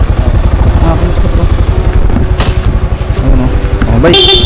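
A motorcycle engine drones loudly and close by with a rapid pulsing throb and a rising rev near the end, while people talk over it.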